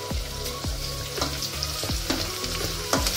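Food sizzles and crackles steadily in a hot pan while being sautéed and stirred for a beef lampredotto tripe dish, with periodic scraping strokes of a utensil and no talk.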